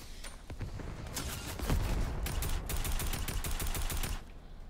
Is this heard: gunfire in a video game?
yes